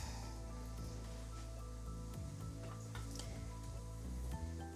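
Onion frying in hot oil hisses and sizzles in a steady, even wash, with a low hum underneath and faint stirring clicks throughout.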